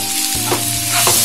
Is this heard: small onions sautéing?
yes